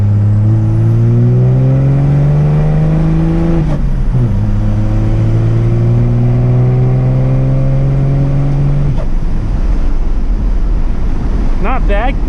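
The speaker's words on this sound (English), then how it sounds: "that's wide open throttle into fourth gear" A 12-valve Cummins diesel truck with an upgraded turbo pulls at wide open throttle, a loud steady engine drone that rises in pitch, drops briefly at a gear change, then climbs again into fourth gear, with wind noise throughout.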